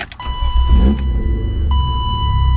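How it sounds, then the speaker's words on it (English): A BMW E36 325is coupe's engine catching and settling into a steady idle rumble, close by, with a faint electrical whine and a brief click before it starts. "and now it will allow the car to start."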